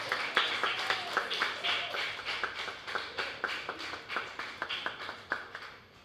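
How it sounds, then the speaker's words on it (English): Applause for students at a Kwéyòl spelling bee comes from a modest audience: a soft, fairly sparse patter of individual claps heard at some distance and continuing steadily throughout. "Give them a great big round of applause."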